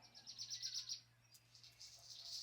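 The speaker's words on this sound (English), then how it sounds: "You could hear the birds." Birds sing at sunrise over a snowy winter campsite, giving a run of high, quick chirps, some nearer and some farther off, over a faint low hum.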